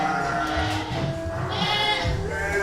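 Jawa Randu goats bleat on a breeding farm: several overlapping wavering calls, loud and close, repeating through the moment with farm background noise.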